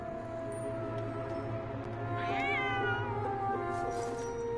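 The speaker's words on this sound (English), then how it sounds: "Wait, the cat." A cat in the Genshin Impact video game lets out a drawn, wavering meow over a steady game music and ambience bed, moderately close and clear, with no talking.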